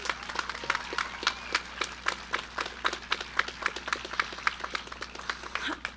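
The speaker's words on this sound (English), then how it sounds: "Please join me in a round of applause for our dedicated," Graduation ceremony audience applauding teachers and staff: sustained, evenly textured clapping from a large crowd continues for six seconds, moderately loud and without a break.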